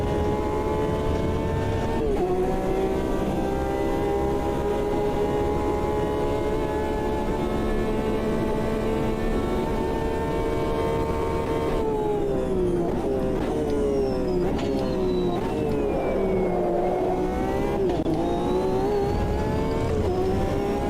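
A race car engine in Automobilista 2 roars steadily at full throttle, holding a loud sustained whine. Midway it drops and climbs again through several quick upshifts, with no voices.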